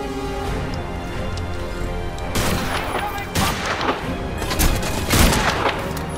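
Gunfire in the video game Crysis 2, a burst of loud shots and booming impacts that grows denser midway, with game ambience underneath.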